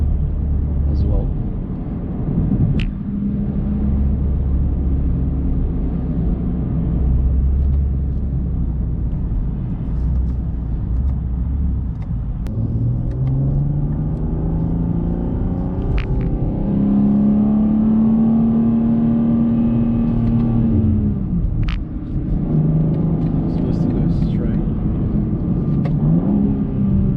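A 2023 BMW M2 drives on back roads, with a loud steady engine drone and rumble that rises and falls in pitch through gear changes, under continuous talk.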